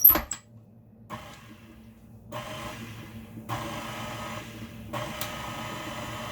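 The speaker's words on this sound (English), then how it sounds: "make sure you pulse your mixer by turning it on and off" An electric mixer pulsed on and off while mixing cookie dough, a few short whirring bursts separated by brief pauses, close and moderately loud, with no talking.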